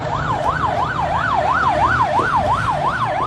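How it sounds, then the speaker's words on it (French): A siren wails in a fast rising-and-falling pattern, loud and steady, over a low rumble of street traffic in the Bessengue district of Douala, Cameroon. "Cette sirène qu'on entend siffler au quartier Bessengue à Douala"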